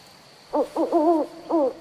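An owl hoots in a short series of four soft, wavering calls, clear and fairly close against a quiet background with a faint steady hum.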